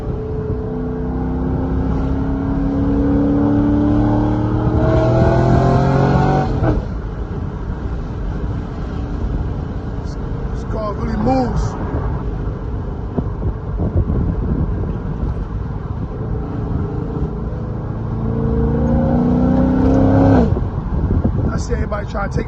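A C6 Corvette with a cat-back exhaust and catless headers revs up in two rising bursts, one early and one near the end, with wind rush and a voice in the background between them.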